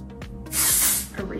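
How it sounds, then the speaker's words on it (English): A short burst of tapioca dry shampoo sprays onto hair, a close breathy hiss of about half a second, with soft rubbing and handling noises before and after. "you just wanna spray it and then rub it in with your fingertips"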